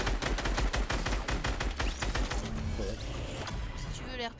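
Rapid automatic gunfire crackles in dense bursts in the Vigor video game, loud and close, thinning toward the end with scattered shots and a buzzing tone, while a voice talks over it.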